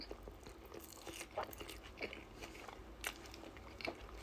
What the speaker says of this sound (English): now let's try their chili cheese fries